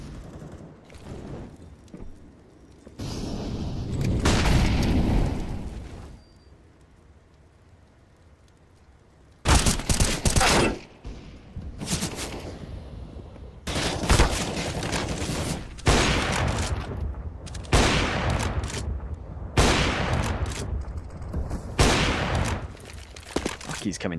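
Competitive shooter game gunfire comes in loud bursts and rapid sprays, clusters of sharp shots separated by quieter stretches, with a commentator's voice talking over the action.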